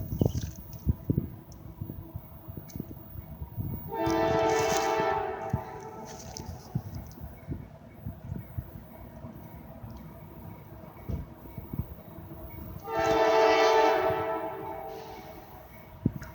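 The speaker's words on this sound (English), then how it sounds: "We got a CSX train going through Bell Buckle." A slow CSX freight train rolls through downtown Bell Buckle, Tennessee, in light rain, sounding two sustained, fairly loud horn blasts several seconds apart over a steady rumble and clatter of railcars.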